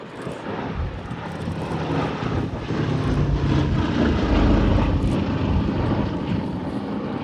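B-17 bomber engines and propellers at an air show, a broad rumbling drone that gradually swells louder as the aircraft passes, heard from a distance outdoors.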